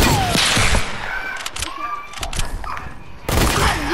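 Rapid gunfire bursts and booms from the video game Fortnite crackle loudly, with sniper rifles in play, dipping into a quieter stretch before another burst of shots near the end.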